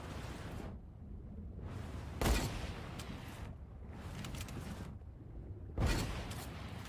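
Gunfire in the Fortnite battle royale game: a few sharp shots with spacing between them, two of them standing out as hard cracks, set in quiet-to-moderate in-game ambience.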